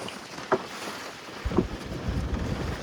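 Wind gusts over a fishing boat out at sea during pomfret fishing, a steady, low rushing noise with a couple of brief knocks and a rising rumble of buffeting toward the end, and no voices.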